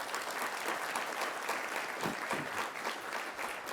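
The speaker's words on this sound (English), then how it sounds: "Please give him a round of applause." An audience applauds steadily and loudly for Lieutenant Governor Garland Gilchrist at a workers' gala, a dense, continuous clatter of many hands clapping with no voices rising above it.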